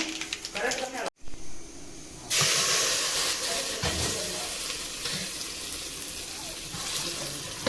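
Mustard seeds and urad dal tempering in hot oil give a loud, steady sizzling hiss that jumps up after a brief pause and then continues without a break.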